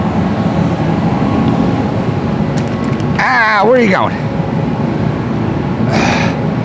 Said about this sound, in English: sorry for the noise, jet heater